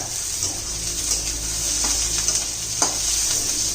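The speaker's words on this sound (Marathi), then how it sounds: "अजून थोडा होऊ देते एक एखादा मिनिटभर घेते परतून" Onion and garlic sauté in a hot pan with a steady close sizzle, broken by a few short scraping stirs of a spatula.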